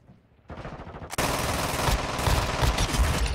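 A secondary gun firing in Warzone Mobile, a quiet click and then a sustained loud burst of rapid automatic fire that keeps rattling to the end.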